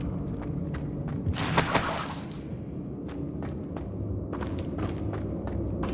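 The Depulso spell cast in the video game Hogwarts Legacy bursts out as a bright, crackling, shattering whoosh over a low rumble, surrounded by scattered clicks and soft footstep-like ticks.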